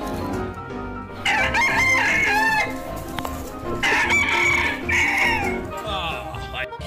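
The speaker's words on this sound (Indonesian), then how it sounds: "Oke, di sini ada ayam teman-teman" Roosters crow loudly and hens cluck nearby in bursts, with a few overlapping calls and a voice in the background.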